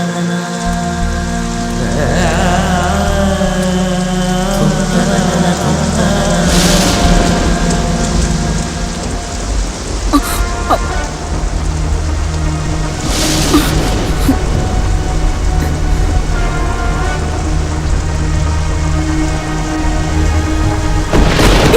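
Heavy rain pours steadily across a wet rural landscape, a dense, loud and continuous hiss with occasional thunder rumbles, with no voices heard.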